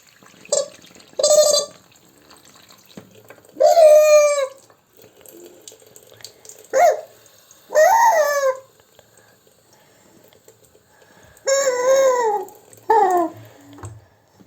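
A water-filled toy whistle warbles in several separate bursts, bubbling trills rising and falling with quiet gaps between them, close and fairly loud.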